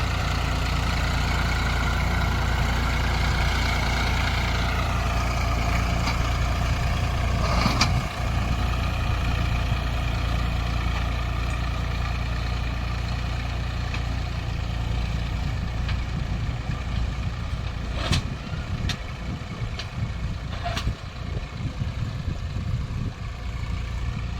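A tractor running a rotavator through farm soil runs steadily and loudly throughout, a constant low rumble with a few brief clanks and knocks from the working machinery.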